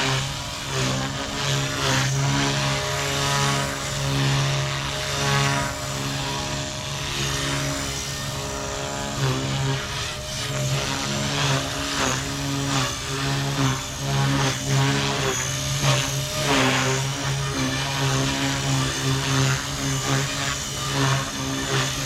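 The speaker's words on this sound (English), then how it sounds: "A stable little heli, that's for sure." A small Blade Fusion 180 RC helicopter hovers steadily, its rotor giving a continuous buzzing whine with a strong steady hum and slight wavering in pitch, close and loud throughout with no talking.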